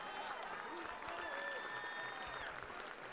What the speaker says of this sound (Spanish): Fuerte el aplauso para Carlos Valencia